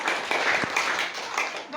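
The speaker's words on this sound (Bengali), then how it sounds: "ওর জন্য একটা হাততালি দিয়ে আমরা" Schoolchildren in a classroom applaud together, a dense wash of clapping hands that swells and fades over under two seconds.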